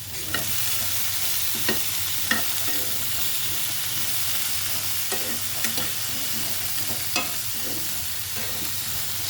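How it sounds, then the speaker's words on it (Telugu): A ground spice paste is stir-fried with kabuli chickpeas in a pan, producing a steady close sizzle punctuated by regular sharp scrapes and taps of the stirring spoon. "ఇప్పుడు మనం మిక్సీ పట్టుకున్నవి వేసేసుకుందాం."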